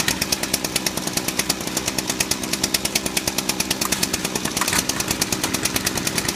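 Stihl and Echo stick equipment engines idle and rev steadily after a cold start, a loud, close two-stroke drone with a rapid, even pulsing throughout.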